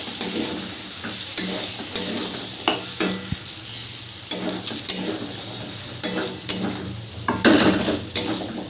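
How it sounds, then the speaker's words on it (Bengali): Chickpeas and peas for ghugni sautéed and stirred in a pan, with a continuous close sizzle broken by repeated rhythmic scrapes and knocks of a spatula against the pan, loud and without talk. "এভাবে ছোলা আর মটরটা দিয়েও আমি একটুখানি কষে নেব"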